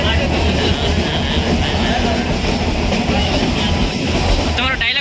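A train runs past with a loud, dense, continuous rumble and rattling clatter of wheels on track, heard close and steady throughout with some noise at the end.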